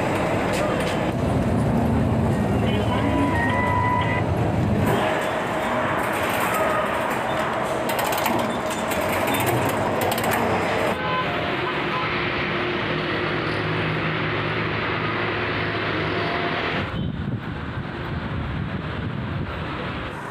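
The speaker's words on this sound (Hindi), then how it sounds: "मेट्रो तशरीफ ला चुकी है।" A metro train pulls into a station, a broad rushing roar with wind buffeting that builds and then shifts as it arrives, with a faint voice now and then.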